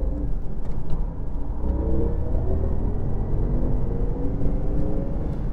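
A Porsche Taycan Turbo GT electric car with 1,034 hp driven fast around a coned track gives a steady, loud low rumble and whir of road and wind noise, unbroken throughout.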